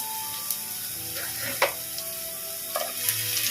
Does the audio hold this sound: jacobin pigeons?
no